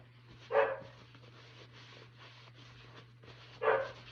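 Two sharp dog barks, about three seconds apart, ring out in a house near a spot where sanding is being done, with a steady low hum underneath.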